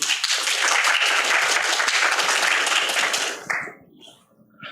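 An audience at a youth English talk concert applauds to welcome a student team, dense clapping for about three seconds before it tapers off abruptly into near silence with a few stray claps.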